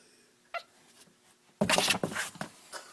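A young kitten makes odd, scratchy yowling noises in a few close, loud bursts after a faint earlier squeak.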